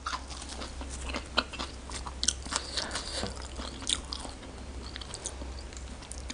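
Crunchy chewing of spicy Lao-style larb with bitter melon and fresh local vegetables: close, steady mouth crunches and bites, with irregular crisp snaps over a low background hum.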